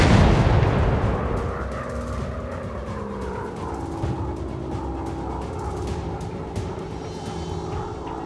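Bombs exploding in the WW2 dogfight game Warplanes, a heavy boom opening loud and rumbling into a sustained drone of aircraft engines with a few faint later thuds.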